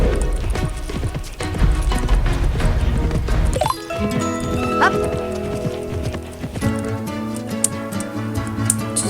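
Horse hooves gallop in the Alexandra Ledermann equestrian video game, a steady drumming clip-clop with a brief whinny and a clattering crash, then continuing game music and effects behind the rhythmic hoofbeats.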